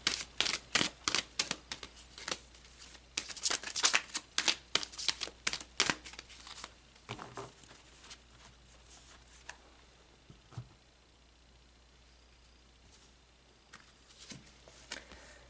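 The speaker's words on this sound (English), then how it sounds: "Let's pull some more cards." Tarot cards shuffled and handled in a quiet room: a rapid series of crisp snapping flicks and riffles during the first six seconds, then sparser soft taps and slides as cards are drawn out.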